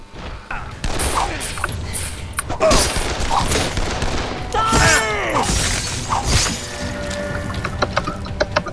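AK-47 gunfire in the zombie game Dead Island, loud bursts of automatic rifle fire with mechanical clattering and ringing impacts, a few separate volleys over several seconds.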